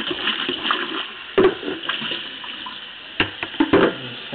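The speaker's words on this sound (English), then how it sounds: "I'm gonna just rinse it out." Tap water runs into and splashes around a cracked popcorn container being rinsed out, a steady close gush with a few sharper knocks and splatters from the container.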